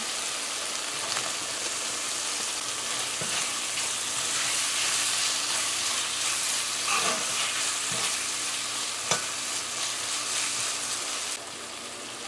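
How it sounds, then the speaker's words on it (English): Shrimp fry in a papaya coconut curry, a steady close frying hiss with a few stirring clicks and scrapes throughout, no voices. "so our 2 minutes is up, so we can add our shrimp now"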